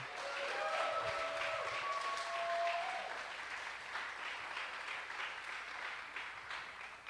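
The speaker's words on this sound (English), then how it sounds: "How about another round of applause for Karina and Jade?" An audience at a holiday party claps in a steady round of applause that fades gradually toward the end, with a few cheers and whoops early on.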